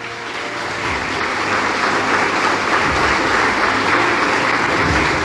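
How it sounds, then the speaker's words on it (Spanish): A church congregation at a Spanish-language service applauds for the Lord, with dense, sustained clapping that swells in the first second and then holds steady and loud. "Dale un aplauso al Señor."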